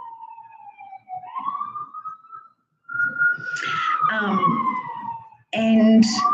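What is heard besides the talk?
emergency vehicle sirens passing outside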